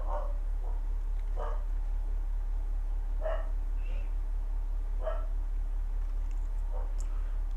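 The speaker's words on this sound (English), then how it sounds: "You're gonna hear the dog starts barking." A dog barks in short bursts in the distance indoors, several faint separate barks over a steady low electrical hum, while someone talks now and then.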